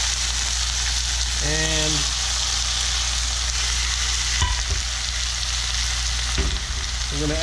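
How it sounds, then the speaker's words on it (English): Pork sizzling and caramelizing in a hot pan, a loud continuous hiss close up that runs through the whole stretch, with a brief word of speech and faint clinks over it. "So we're going to put the pork in the pan"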